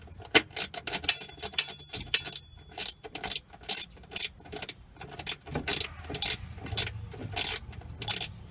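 A ratchet tightens a bolt while a resonator is fitted to a Cummins Onan generator on a Travato camper van, giving rapid close clicking strokes in irregular bursts with rubbing and handling sounds between them.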